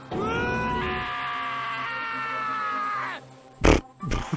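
A long, loud, high-pitched scream from the video game Danganronpa holds for about three seconds, then cuts off, followed by a couple of short sharp bursts.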